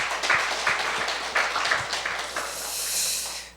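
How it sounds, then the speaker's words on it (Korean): A church audience at a regional camp forum claps together, a close, busy patter of many hands that holds steady and then thins out toward the end. "우리 남원 요한교회 역사하신 우리 하나님 앞에 영광의 박수 올리겠습니다"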